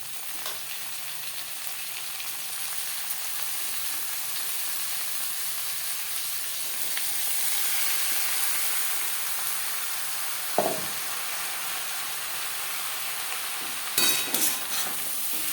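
Marinated banana stem fries with onion and green chillies in a hot pan, giving a steady, even sizzle and hiss throughout, broken by a sharp clank partway through and a few quick utensil knocks near the end, with no talking.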